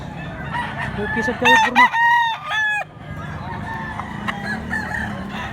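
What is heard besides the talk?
rooster crowing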